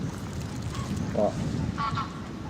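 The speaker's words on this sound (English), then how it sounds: "Oh, coots." Coots call outdoors in late December, a few short, honking notes at moderate distance over steady wind and background rumble.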